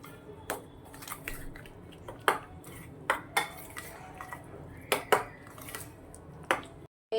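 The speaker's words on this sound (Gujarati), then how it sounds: "અને સરસ રીતે મિક્સ કરી લઈશું" A spoon stirs a spice and yogurt mixture in a metal pot, giving sharp, irregular clinks and scrapes against the sides at close range, about a dozen distinct knocks spread over several seconds with no talking.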